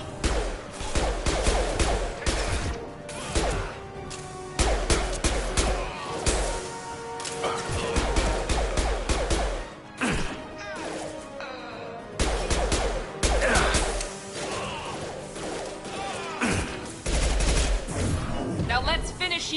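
Gunfire in the video game Mass Effect 2, rapid bursts of automatic weapon fire and sharp impacts coming in repeated volleys with short pauses, loud and close, mixed with brief game voices.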